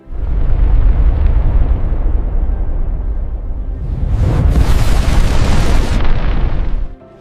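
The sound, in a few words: explosion sound effect of asteroid impact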